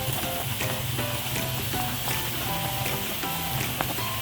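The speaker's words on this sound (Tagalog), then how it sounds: "Ayan guys, kumukulo na po siya yung hito." Catfish adobo simmers in a vinegar and soy braise with garlic and pepper, giving a steady bubbling, crackling sizzle with scattered pops throughout.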